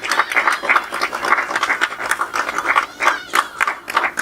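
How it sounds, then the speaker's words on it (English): Audience at a book launch clapping steadily, a dense patter of many hands in a room, moderately loud and continuous without pause. "Let's give it a round of applause together and here"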